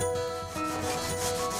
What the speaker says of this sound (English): a sanding block levels our roads and gives a weathered look to the concrete